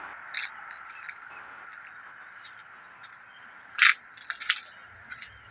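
Keys jangle in a few quick metallic bursts, sharpest near the middle of the clip, as a bunch of keys is handed back in a room with soft background noise.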